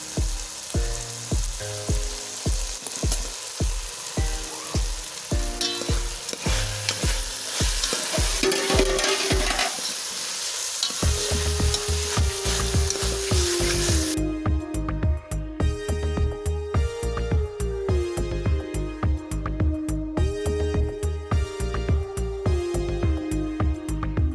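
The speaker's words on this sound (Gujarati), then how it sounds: "આપણે પલાળેલા મઠ છે એ તેલમાં સડવા દેવાના છે" Soaked moth beans sizzle in hot oil over a medium flame, scraped and stirred with quick, rhythmic strokes, then left frying in a steady loud crackle with occasional stirring, no voices.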